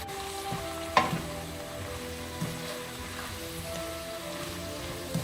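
Prawns stir-frying in a hot pan in a firecracker prawn dish, a steady close sizzle with a few soft stirring knocks and scrapes, no voices.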